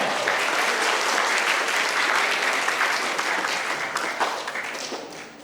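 Sustained audience applause for a sidewalk theater troupe's morning performance at an ecology boarding-school event, a dense even wash of clapping that holds steady and fades slightly toward the end, with no voices over it.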